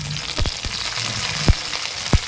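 Onion and tomato fry in hot oil in a wok over a stove, a close steady sizzle broken by a few sharp knocks of a spoon against the pan, with no speech.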